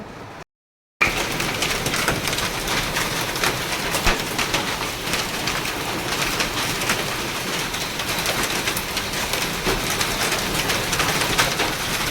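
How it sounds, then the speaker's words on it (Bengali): Steady rain pattering outdoors ahead of a hailstorm, a continuous even hiss after a brief silent start, with pigeons cooing softly in the background. "বৃষ্টি তো হচ্ছিল প্রায় আধা ঘন্টার মতো নর্মাল বৃষ্টি হওয়ার পর শুরু হলো শিলাবৃষ্টি"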